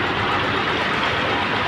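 A 2019 Honda CG 125 motorcycle with a Euro 2 engine idles close up, giving a loud, steady, even rumble with no gaps or misfires.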